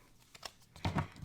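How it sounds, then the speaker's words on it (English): A hand-sized Tarot del Fuego deck being shuffled gives a few faint, soft papery taps and flicks close by, quiet and brief, with no speech. "Love shuffling this deck though, because it's just so perfect for my hand size."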